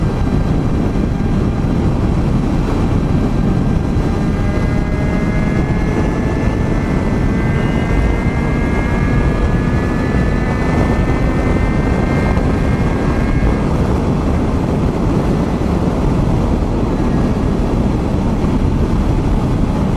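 A Suzuki Bandit 650cc motorcycle rides along at steady speed, its engine a continuous loud drone heavily buffeted by wind noise, with a rising whine partway through and no voices.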